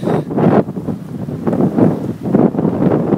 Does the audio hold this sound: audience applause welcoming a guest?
no